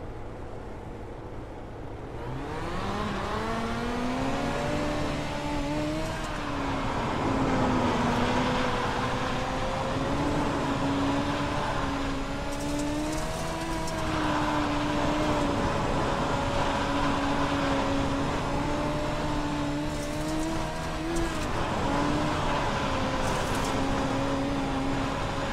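Dirt midget race car engine at Lanier in a racing video game, rising from idle into a sustained high-revving drone with clear pitch climbs and small dips as it runs, steady and loud throughout, no talk.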